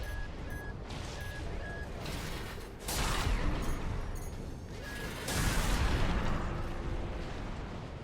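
Mechs in the video game Armored Core VI trade heavy gunfire and artillery in a dense, loud, continuous roar with two stronger blasts surging mid-clip, no speech.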